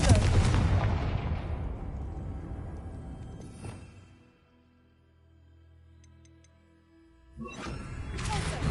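A Confringo blasting spell bursts in the Hogwarts Legacy game: a loud, booming blast opens and rumbles away over several seconds, then a second sharp crack arrives near the end.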